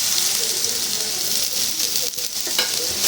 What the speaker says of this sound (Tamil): இந்த டைமில் நான் ஆனியன் வந்து ஆட் பண்ணிக்கிறேன்.